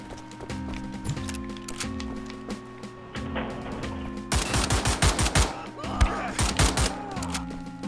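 Enemy gunfire in Wolfenstein: The Old Blood, a steady run of separate shots over game music and tones, then louder, denser bursts of rapid fire in the second half.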